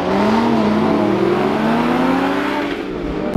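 A stock Audi R8 V8 engine roars loudly nearby, its pitch climbing steadily as it revs up, then cuts off abruptly at the end.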